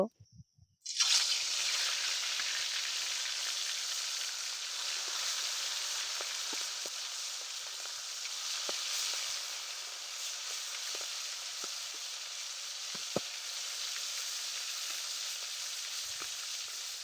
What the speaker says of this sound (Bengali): এবার কড়াইতে তেল দিয়ে তার ভিতরে আমি মাছগুলো দিয়ে দেব